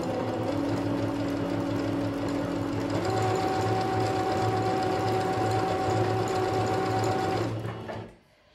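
A Singer Curvy sewing machine running quickly, a continuous close mechanical whir and rapid needle rattle that rises in pitch partway through, then stops abruptly near the end.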